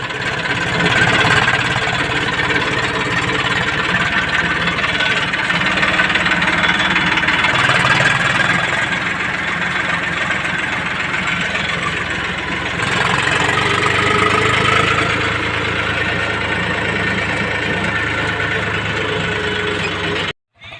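A tractor loaded with manure idles on a farm with a steady, continuous rumble, close and loud, holding the same chugging tone for the whole stretch before stopping abruptly.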